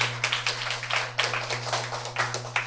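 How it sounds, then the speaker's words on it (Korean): Audience applause welcoming a speaker onto the stage at an inspirational talk event: a dense, steady patter of many hands clapping, rising in repeated swells over a low constant hum. "박수로 맞이해 주세요"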